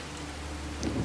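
Steady rain falls in the video game Fallout 4, a soft, even hiss with no voices, swelling slightly toward the end of the short stretch.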